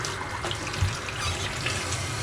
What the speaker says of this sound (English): Cranking up that hot water, look at it. Good and hot.